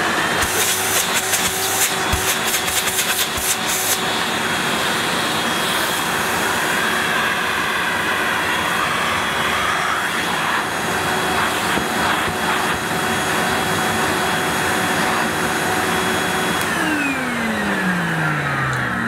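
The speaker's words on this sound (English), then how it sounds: "Let's see how powerful a 900 watt motor is from the 70s." A 1970s Hoover S3005 Celebrity floating vacuum cleaner with a 900 watt motor runs continuously, a loud, steady roaring whine with a few brief fluctuations that winds down in pitch near the end.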